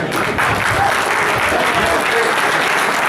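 Audience applause for Jerry Casale at a live Devotional 2021 event in Cleveland, a dense, steady clapping from a sizable crowd that holds at full level throughout without a break.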